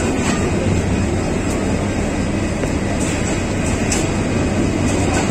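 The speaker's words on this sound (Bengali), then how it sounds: "তিস্তা অবশেষে আসলো বিদ্যাগঞ্জ থেকে" Tista Express passenger train arriving from Bidyaganj on the Dewanganj to Dhaka route in Bangladesh, a steady loud broadband rumble with low hum filling the whole stretch, close by, no talk.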